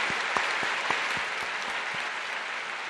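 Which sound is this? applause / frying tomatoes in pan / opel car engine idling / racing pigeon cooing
applause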